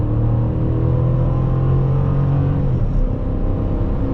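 A 2005 Chrysler 300C with the 5.7L Hemi V8 accelerating hard with wheel spin, its loud steady engine rumble and drone continuous throughout, heard from inside the car.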